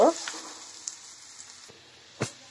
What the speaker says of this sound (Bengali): আমরা বাদামি করে এটাকে ভেজে নেব।